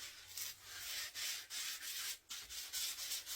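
An axe is hand-sanded with 120 grit sandpaper in light passes, a close, steady rasping scrape in repeated strokes with brief pauses between them, heard alone.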